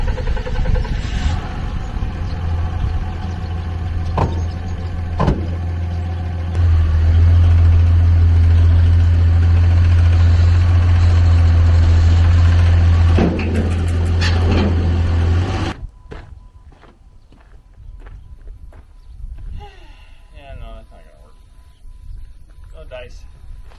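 A truck engine idles with a steady low drone while it is loaded onto a tilt trailer, growing louder and heavier midway before cutting off abruptly.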